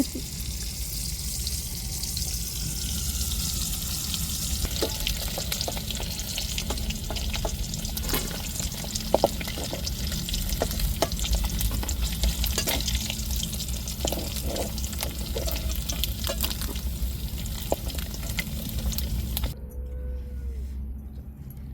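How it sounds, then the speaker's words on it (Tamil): Fish frying in a pan at night gives a steady, dense crackling sizzle that runs unbroken at moderate loudness, then drops away sharply near the end. "நாங்கள் இப்போ மீனை பொரித்து எடுத்துகிட்டு"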